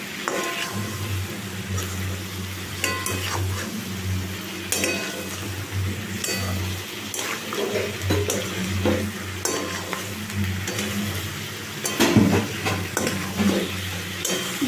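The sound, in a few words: fried chicken pakoras being stirred and fried in a pan for chili chicken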